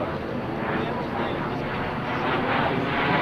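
A loud, steady roar of an airplane engine at the 2004 NAS Oceana Airshow fills the air, droning continuously and growing slightly louder as it passes overhead.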